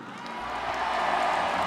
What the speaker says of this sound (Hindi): आप पता ताली क्यों बजा रहे हैं?